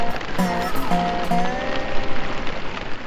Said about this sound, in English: Got a little rain, a little sleet mixed in.